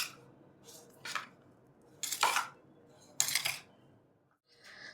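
Garlic chutney is stirred with oil in a bowl, giving a few separate close scraping and wet clinking strokes with quiet pauses between them.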